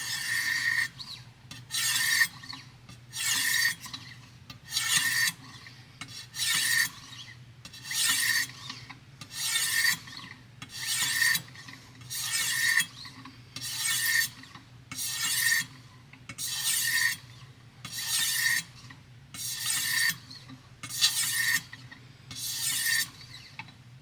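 A Japanese knife is drawn across the stones of a Wicked Edge guided sharpener: about a dozen steady, evenly spaced rasping strokes, close and clear, with a low hum underneath and no talking.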